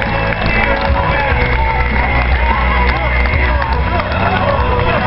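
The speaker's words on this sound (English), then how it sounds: "Give them a nice round of applause" A crowd at an outdoor Relay For Life event bursts into sustained applause and cheering, a dense, loud wash of clapping with voices mixed in.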